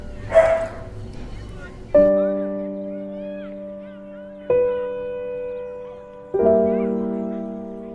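Two dogs barking indoors in a home: a short yelp near the start, then three loud, sustained tonal howl-like barks spaced a couple of seconds apart, close to the microphone.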